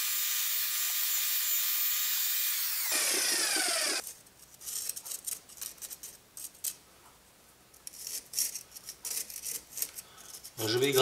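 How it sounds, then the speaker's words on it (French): Scraping and raking out mortar joints between unfired earth bricks in a thermal-mass wall renovation, heard as a steady hiss of scratching for a few seconds, then irregular close scraping and rasping strokes with quiet gaps. "Je vais gratter mes joints là, je les creuse pour pouvoir les remplir après avec mon mortier"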